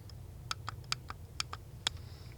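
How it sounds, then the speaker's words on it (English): Sharp little plastic clicks from a gaming mouse's DPI button tap out in a quick, uneven series, close and crisp against a quiet background hum. "The DPI button is extremely loud."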